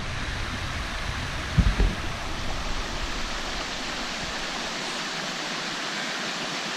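Mountain brook rushing through a deep ravine, a steady broadband wash of flowing water heard up close, with a couple of low thumps near the start and the roar continuing unbroken to the end.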